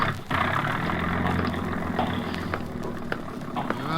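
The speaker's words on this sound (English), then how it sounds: "start that engine" A car engine cranks and catches as a radio drama sound effect, then settles into a rough, loud idle with a few faint clicks over the running motor.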